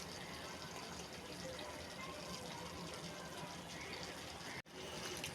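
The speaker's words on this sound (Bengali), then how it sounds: "ঝোল দিয়ে দিচ্ছি, ঝোল বেশি দিব না" Broth poured into a cucumber and shrimp curry cooking with green chillies, a steady broad watery rush that is close and continuous for several seconds, breaking off briefly near the end, with no talking.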